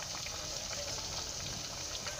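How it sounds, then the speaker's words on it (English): Potatoes fry in hot oil with a faint, steady sizzle and crackle, quiet and continuous with no talk. "You can see that our potatoes is on fire, still frying."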